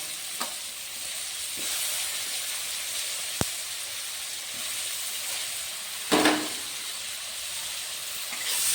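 Chopped tomatoes hit a pan of vegetarian drumstick-flower ghonto and fry with a steady soft sizzle, one brief sharp clink and a louder burst of hiss partway through, then stirring noises.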